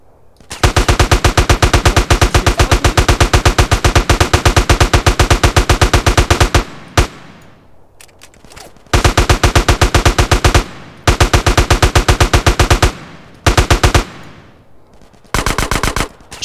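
Machine gun fire in GTA San Andreas, loud rapid automatic bursts of evenly spaced shots, a long opening stream followed by several shorter bursts with brief pauses between.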